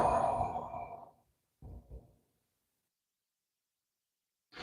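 Slow deep breaths during a breathing exercise: one long airy exhale fades out, then a short pause and a quicker double breath, followed by silence and a brief breath at the end.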